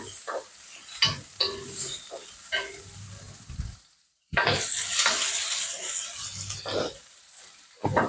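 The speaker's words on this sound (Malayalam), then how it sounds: "എണ്ണ ചൂടായി വന്നിട്ടുണ്ട് നമുക്കപ്പം ദേ ആദ്യം പച്ചമുളക് ചേർത്ത് കൊടുക്കാം പിന്നെ സബോള ചേർത്ത് കൊടുക്കാം എന്നിട്ട് നന്നായിട്ട് ഇളക്കി ഒന്ന് കൊടുക്കാം" Green chilies and onion land in hot oil and are stirred, giving a close, loud sizzling hiss broken by scraping strokes of a spoon against the pan, with a brief quiet pause midway.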